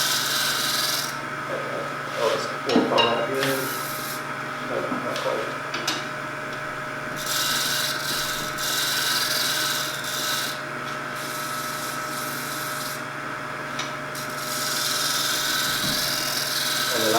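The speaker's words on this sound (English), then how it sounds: "The nice thing about doing the shear scraping is that you're hardly taking off anything." A wooden bowl is shear-scraped on a woodturning lathe, giving repeated soft, hissing rasps of the tool against spinning wood in long strokes, with a steady motor hum underneath and a few brief knocks.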